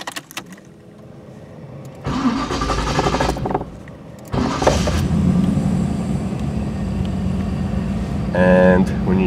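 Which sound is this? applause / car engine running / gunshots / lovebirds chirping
car engine running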